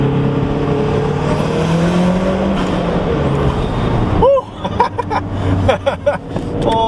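Exhaust of a 2013 Mazdaspeed 3 tuned to 300 wheel horsepower accelerating through a small tunnel, a loud, rising engine drone that cuts off abruptly, followed by sharp crackling pops and bursts echoing in the enclosed space.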